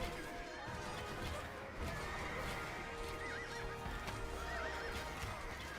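Horses in the strategy game Chronicles: Alexander the Great, repeated whinnies and neighs over clip-clopping hooves and occasional clashing thuds, a busy battlefield bed.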